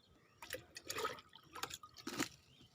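Compost liquid poured from a container onto garden plants such as lemon, sapota and pomegranate saplings, heard as four short, close splashing gushes with brief pauses between them and no talking.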